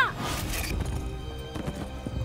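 Horses gallop side by side in a period drama, with thudding hoofbeats under a brief whinny at the start and a steady, fairly close rumble of movement.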